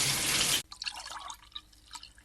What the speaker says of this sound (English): I'm gonna rinse the product off with like hot water.